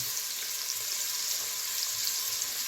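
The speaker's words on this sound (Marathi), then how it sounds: "त्याच्यामध्ये तेल टाकून त्याच्यामध्ये कांदा टाकला आहे आणि लसणीच्या काही पाकळ्या टाकल्या आणि चांगल्या ढवळून घेते" Onion and garlic cloves fry in oil as they are stirred, giving a dense, steady hissing sizzle with faint pops throughout.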